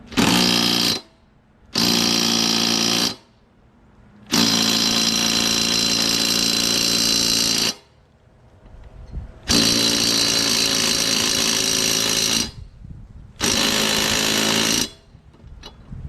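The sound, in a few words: impact wrench tightening lawnmower nut with 15/16 socket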